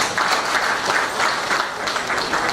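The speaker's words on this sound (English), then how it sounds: "I think we should give him another round of applause" Conference audience at a builders' technical session applauds a speaker, a short burst of steady crowd clapping at moderate level with no talk on top.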